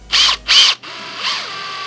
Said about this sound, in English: I take the entire link and I chuck it into my drill. And then I just power thread this thing into the rod end